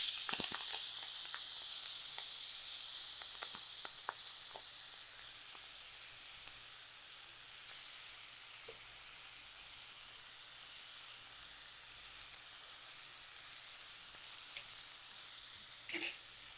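Fenugreek leaves sautéing over low heat in a pan for chutney, a soft continuous sizzle and hiss with occasional faint pops and clicks, fairly quiet throughout.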